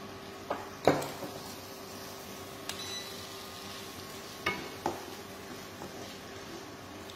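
Garlic and ginger paste frying in a pan gives a soft steady sizzle, broken by a few sharp clinks and scrapes of a utensil against the pan.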